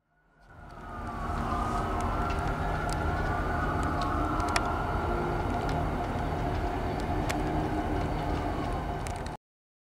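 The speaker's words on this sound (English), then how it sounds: "I am about to get my first glimpse of an exceedingly rare occurrence, a daytime Austin Western Railroad train on the Capital Metro Central Subdivision." An Austin Western Railroad test train on the Capital Metro Central Subdivision in Texas rumbles past close by, a loud continuous roar of wheels and engine with horn-like tones, rising quickly and ending abruptly.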